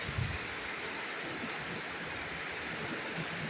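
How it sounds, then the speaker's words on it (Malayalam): Heavy Kerala monsoon rain pours down in a steady, even hiss, with runoff flowing along the road, a constant wash of sound with no voices over it. "10 മാസം മഴ കാണാത്തോണ്ട് ഇന്നിരുന്ന് തകർത്തിരുന്ന് പെയ്യോ മഴ"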